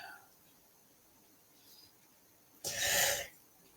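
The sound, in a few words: sneeze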